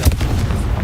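Confringo blasting curse in the Hogwarts Legacy game: a single short, deep thud of an explosion at the very start, then a brief low rumble.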